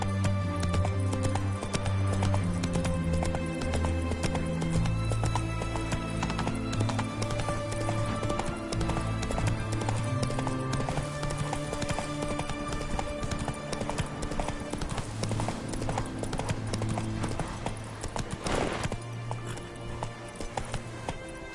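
Horse hooves clip-clop in a steady galloping rhythm through a fantasy game world in The Witcher 3: Wild Hunt, Hearts of Stone, close and continuous over a dense bed of orchestral music, with a brief whinny near the end.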